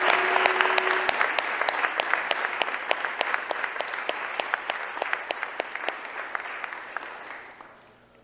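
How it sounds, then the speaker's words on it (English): Audience applause for students at a military and career signing day, crisp individual claps over a full clapping bed that gradually thins and fades out near the end. "please join me in a round of applause for these students"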